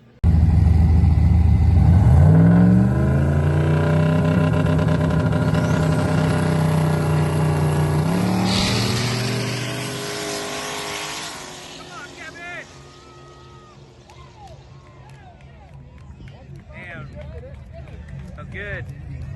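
A race car engine roars loudly and steadily, its pitch climbing as it revs before settling lower, with a person talking over the later part.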